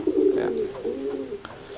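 Pigeon cooing close by in a racing-pigeon loft, a low throaty coo rising and falling in two phrases with a brief soft flutter near the end, no talk.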